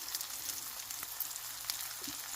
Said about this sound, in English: Look at that. Look at that sizzle.